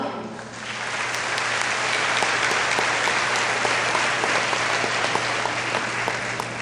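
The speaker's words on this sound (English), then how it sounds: "Today, we all deserve a resounding applause for a job well done." Graduation ceremony audience giving a resounding applause, a full, continuous wash of many hands clapping that swells and holds steady for several seconds in a large hall.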